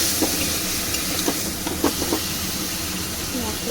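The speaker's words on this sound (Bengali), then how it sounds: "ভালো করে মশলাটাকে এবারে আলুর সঙ্গে কষাবো।" Spice paste fried and stirred together with potatoes for a prawn curry, giving a loud, steady sizzle with repeated scraping strokes of a spatula against the pan.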